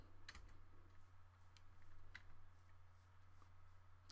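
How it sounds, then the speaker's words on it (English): Computer keyboard keys click while someone plays Minecraft, with a few sharp taps spread across the moment over a steady low hum. The clicks are faint and irregular, with no one talking. "All you can hear is my keyboard clicking"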